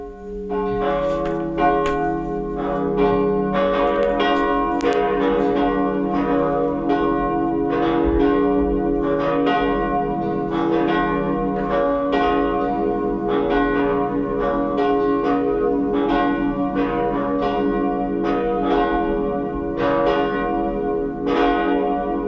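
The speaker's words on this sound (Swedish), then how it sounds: "Då får vi lyssna på klockringningen." Cathedral bells ring steadily and loudly during a Swedish Sunday high mass, overlapping peals sounding continuously without pause, rich and resonant.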